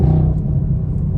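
A BMW M2 engine under hard acceleration, a loud, deep, steady rumble with a strong low drone, close and continuous through the short burst.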